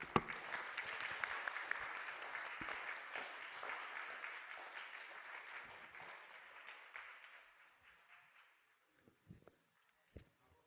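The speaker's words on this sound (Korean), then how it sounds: "큰 박수로 맞이해 주세요." A seated audience at a school academic festival applauds in a dense, even wash of clapping that slowly thins and fades out, leaving a few scattered footsteps and small knocks at the end.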